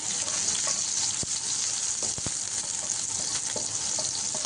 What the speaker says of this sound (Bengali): পেঁয়াজটা এবার সুন্দরভাবে ভেজে নিতে হবে